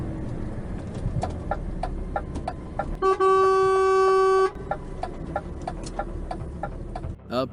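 A sustained car horn blast of about a second and a half, loud and close, at a red car driving the wrong way at a roundabout exit, cutting over steady road and engine noise with faint clucking in the background.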